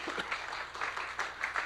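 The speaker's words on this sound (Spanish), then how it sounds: "Dale un aplauso a Él" A church congregation applauds during a devotional service, a faint, loose patter of clapping in uneven bursts, heard from some distance.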